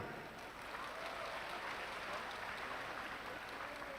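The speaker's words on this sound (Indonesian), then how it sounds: "Tepuk tangan dulu." Quiet, distant audience applause rises at a Universitas Terbuka gathering, an even patter of clapping that stays steady and faint throughout.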